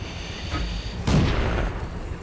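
A single heavy tank gun shot booms out in a World of Tanks battle, a sharp low blast with a rumbling tail over steady engine and ambient game noise.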